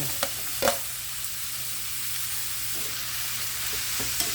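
Tomatoes, garlic and red onion sautéing in a pan for pork binagoongan, giving a steady broad sizzle with a couple of utensil knocks early on and soft stirring noises throughout.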